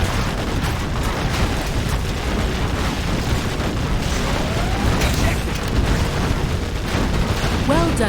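Dense, continuous battle noise from the video game Command & Conquer Generals Zero Hour, with a building being blown up among rumbling blasts, gunfire and whirring mechanisms, loud and layered throughout.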